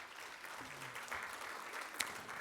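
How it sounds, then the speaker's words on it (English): Applause rolls through a school event audience for a high school student director, moderately loud continuous clapping with a brief voice and one sharp clap standing out near the end. "Please give her a round of applause as well."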